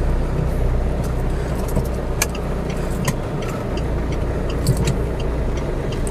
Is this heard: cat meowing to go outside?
no